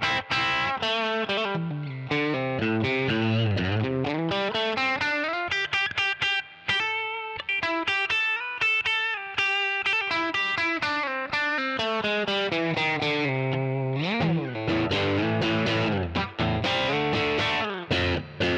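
An electric guitar with single-coil pickups plays fast, busy riffs and bends through a Koch Studiotone 20 head with the gain turned up, giving a crunchy, distorted, continuous tone, close and loud.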